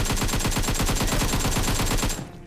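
Rapid automatic gunfire in the PUBG Mobile battle royale on the Erangel map, a loud, continuous burst of evenly spaced shots lasting about two seconds before cutting off abruptly.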